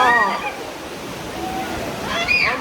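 Water rushes and splashes on a river rapids raft ride at Disney's Animal Kingdom, a continuous close wash with shrieking voices over it at the start and again near the end.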